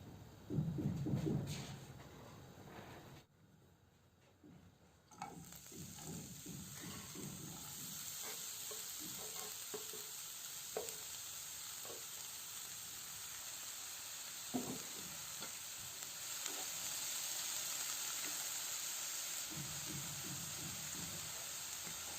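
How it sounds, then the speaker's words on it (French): Savoury donut filling sautéed in oil in a frying pan, a steady close hiss and sizzle running throughout with occasional soft stirring clicks and scrapes. "je vais les faire revenir dans cette poêle dans laquelle je vais ajouter un peu d'huile"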